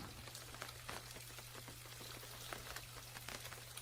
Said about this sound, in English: Got a little bit of rain going on outside.